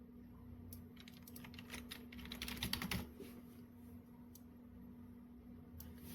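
Keys on a computer keyboard being typed, with a burst of quick clicks clustered in the middle and a few isolated taps later, fairly faint over a steady low electrical hum.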